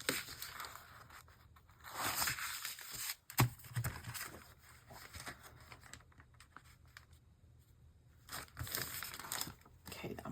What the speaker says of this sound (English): let's put tape on here. And then cut it off.